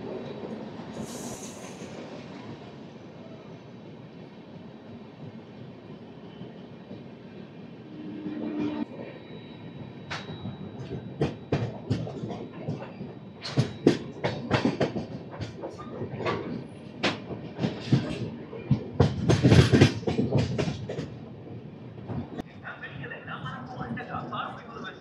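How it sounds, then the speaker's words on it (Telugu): A train runs past on a single-line railway near Tirupati, a rising rumble with rapid clattering wheel clicks and bursts that peak near the middle and then ease off, with a voice talking over it. "ఈ ట్రైన్ వస్తే కానీ మనం వెళ్ళడానికి అవ్వదు"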